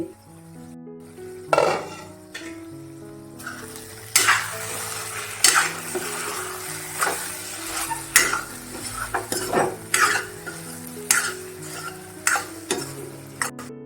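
Stuffed ridge gourd masala cooks in a pan with a soft sizzle, while a spatula scrapes and clinks against the metal in repeated, uneven strokes, close up and without speech.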